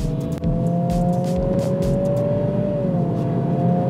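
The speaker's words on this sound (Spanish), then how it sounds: "Aquí te la vas a pasar bien con el sonido de darle un acelerón." A 2023-era Acura Integra A-Spec, a Civic-based car, accelerating hard: a sustained, close engine drone whose pitch climbs steadily, then drops briefly near the end, with light road and wind noise and no talking.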